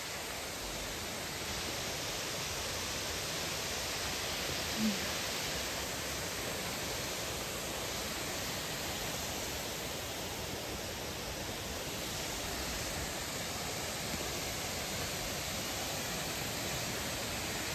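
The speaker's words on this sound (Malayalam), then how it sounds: "ഇതാണ് അരുവിക്കച്ചാൽ വാട്ടർഫോൾസ്. അത്യാവശ്യം വെള്ളമുണ്ട്." Aruvikkachal waterfall in Poonjar pours in a constant dense roar of falling water, loud and unbroken from start to end with no voices.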